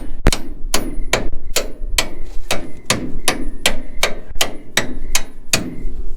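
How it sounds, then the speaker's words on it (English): A hammer strikes metal over and over in a steady rhythm, about a dozen sharp ringing blows close by while fitting a drop kit to the front of a 1983 GMC C10 pickup, with no talking. "this is the point where you hit it with the hammer."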